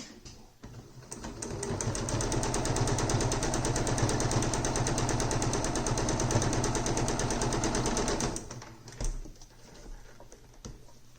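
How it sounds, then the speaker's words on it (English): A sewing machine stitches quilt pieces at a quarter-inch seam, running in a fast, even mechanical patter for about eight seconds before stopping, followed by a few light handling clicks. "stitch at a 1/4 inch seam"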